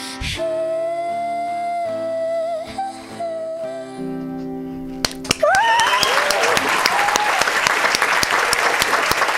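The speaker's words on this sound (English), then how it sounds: "I'll give her a round of applause" Music with a sustained tone gives way to a burst of steady clapping and applause from a studio audience at an unplugged radio performance, continuing to the end.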